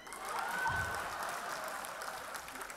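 Applause from an audience at a live comedy show, a steady wash of clapping that holds at moderate loudness for the whole stretch, slightly swelling near the start.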